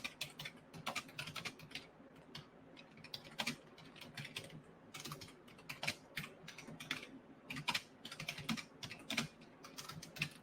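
Fast, irregular clicking of a computer keyboard being typed on, faint and close, with short bursts of keystrokes and brief pauses between them.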